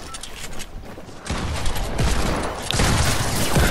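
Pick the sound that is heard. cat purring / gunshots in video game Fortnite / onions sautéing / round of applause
gunshots in video game Fortnite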